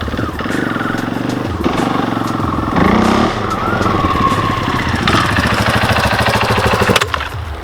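A motorcycle engine runs loud and close, its steady throbbing rumble shifting in pitch as the throttle is opened and eased, ending in a short drop near the end.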